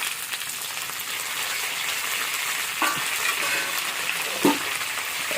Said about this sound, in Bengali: এবার এটাকে আলুর সাথে ভেজে নেব।